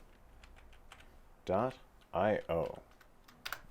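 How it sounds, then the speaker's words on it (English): Quick keystrokes tap on a computer keyboard in a quiet room, scattered clicks around a man's short spoken phrases. "So we'll go to our Google browser and we'll type in"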